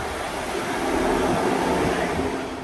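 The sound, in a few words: train arriving at station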